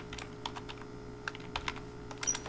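Computer keyboard typing while a wedding invitation card is made on screen: quick, irregular key clicks close by, some in short bursts, with a faint steady hum behind and no talking.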